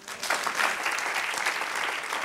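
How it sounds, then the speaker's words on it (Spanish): A church congregation claps for the Lord, a dense, even burst of applause that holds steady and close for a couple of seconds. "Dale un aplauso al Señor."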